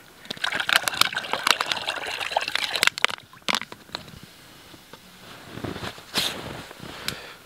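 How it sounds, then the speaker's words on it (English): Bubbling, sloshing water boiling in a pot at a deer hunting camp churns in bursts, close by, with a few sharper splashes and quieter gaps between them. "Got the water boiling now."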